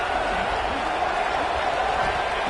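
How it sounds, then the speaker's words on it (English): Dense, steady roar of a stadium crowd at a football game, a continuous wash of massed voices that stays loud and even throughout. "listen to this crowd noise. This stadium is vibrating."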